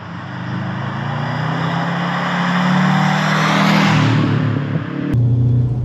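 Subaru Impreza WRX GF8 AWD estate driving on the road, a steady loud engine drone with road rumble building and easing, then a sharp shift in tone near the end as the car carries on.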